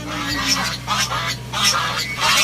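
Several geese honk in bursts on a mountain farm in Bulalacao, Oriental Mindoro, nasal calls repeating close by against a low background hum.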